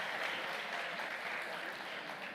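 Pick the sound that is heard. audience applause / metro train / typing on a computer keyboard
audience applause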